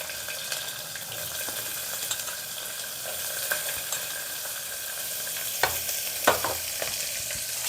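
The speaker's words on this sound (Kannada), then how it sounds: "ಇದೆಲ್ಲದನ್ನು ಕೂಡ ಇವಾಗ ನಾವು ಫ್ರೈ ಮಾಡ್ಕೊಳ್ಳೋಣ." Onion, mustard seeds, cumin and curry leaves fry in oil for a rice bath, a steady crackling sizzle with a few sharp spatula clinks and scrapes near the end.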